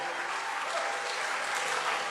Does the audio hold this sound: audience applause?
yes